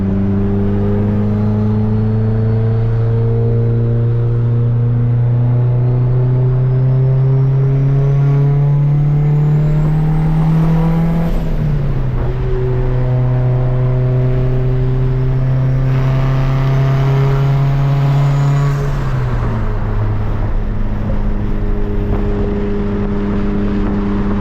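Turbocharged Honda Civic with a built D16 engine pulling under boost: a loud, steady engine drone climbs in pitch through each gear, dips briefly at the shifts, then rises again, with boost modulated by the throttle.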